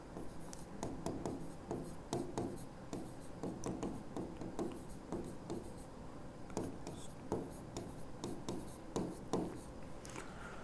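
Marker or chalk writing on a board during a chemistry lecture, a steady run of short scratchy strokes and taps with brief pauses, close and fairly quiet with no voice over it.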